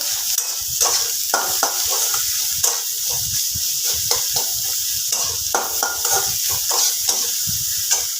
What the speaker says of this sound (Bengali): পরিমাণ মতো নুনটা আমি এর মধ্যেই দিয়ে দেব এবার পেঁয়াজের সাথে মিশিয়ে নেব